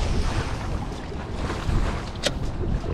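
Gusty wind rumbles and buffets the microphone in uneven surges while bass fishing, with faint water sounds underneath and no one speaking.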